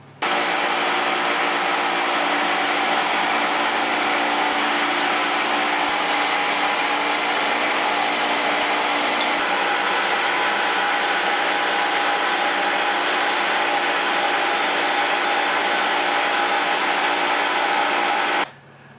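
A power tool cuts a 3/16-inch dado into a 3/8-inch-thick wood frame, producing a loud, steady whine and rasp that runs unbroken at close range for nearly twenty seconds before stopping.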